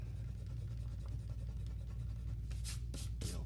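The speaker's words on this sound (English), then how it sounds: "Let me erase that" A pencil perspective drawing is erased with an eraser. The rubbing is soft and continuous under a low background rumble, then turns into three quick, louder scrubbing strokes near the end.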